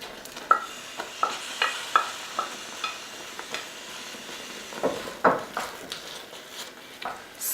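Beef stirred into a sizzling pot of pumpkin chili, a spoon scraping and clinking against the pot in a string of separate strokes over a steady, fairly quiet sizzle.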